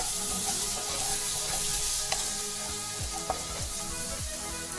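Potatoes and spices sizzle and fry steadily in a pan for aloo paneer curry, a loud, continuous hiss with a few stirring clinks and scrapes partway through.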